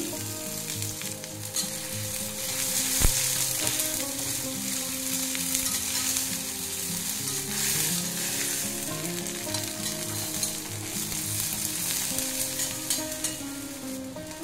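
Onion and garlic sizzle in hot oil in a pan while cooking Bhringraj saag, a steady loud crackling fry with occasional stirring and one sharp knock partway through.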